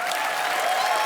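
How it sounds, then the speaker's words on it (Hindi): A studio audience on The Kapil Sharma Show gives hearty applause for a young boy named Samarth, a loud, dense patter of many hands holding steady for about a second, with a faint tonal hum beneath. "समर्थ के लिए जोरदार तालियां"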